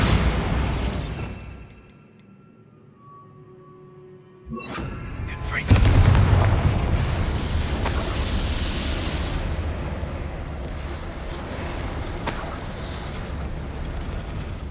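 A Bombarda explosion spell goes off in the Hogwarts Legacy video game: a sharp broadband blast about two-thirds of the way in, preceded by a short spoken shout and followed by a sustained loud rumble of debris and game ambience.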